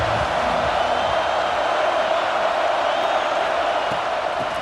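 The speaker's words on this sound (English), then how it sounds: "This crowd ready to make its presence known." A stadium crowd in EA Sports College Football 26 roars continuously, a dense and steady wall of cheering with faint overlapping voices throughout.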